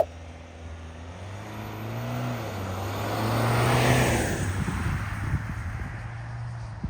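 A 2024 Ford Ranger Wildtrak X dual-cab ute launches hard from a standstill. The engine note climbs loud and close, its pitch rising steadily through the run, with a roaring surge near the middle and no voices over it.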